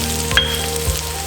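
Sri Lankan chili powder sizzles in hot oil with curry leaves in a pan, giving a steady close frying hiss with a couple of soft stirring knocks. No one speaks.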